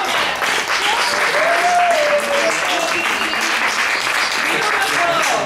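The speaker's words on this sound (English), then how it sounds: "Don't stop clapping." Loud, sustained applause from a crowd at a surprise 65th birthday party, dense steady clapping with voices mixed in throughout.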